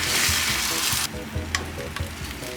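Egg frying in a pan, a loud steady sizzle for about a second, then dropping to a quieter crackle broken by a few sharp clicks and taps.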